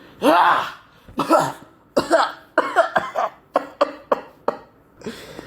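A voice imitates a string of hacking coughs, starting with a few long, rough ones and then quickening into shorter, choppy bursts.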